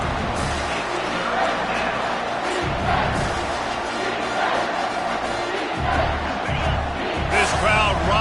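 Stadium crowd noise in a Madden football video game, a continuous roaring wash that swells and surges, with game commentary voices talking over it.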